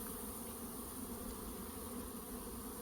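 Honey bees hum in a dense, continuous buzz as a hive is opened for inspection, steady and fairly faint, with no voices.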